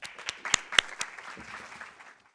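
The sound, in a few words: audience applause welcoming the provost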